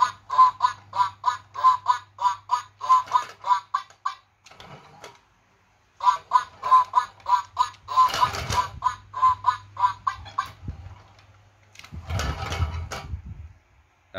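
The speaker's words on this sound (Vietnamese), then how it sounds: "nó thiết kế là kéo đi là sẽ phát ra tiếng kêu" Pull-along toy ducks give off a run of rhythmic electronic quacks, close and fairly loud, coming in repeated bursts with short gaps and ending in a few rustling handling noises.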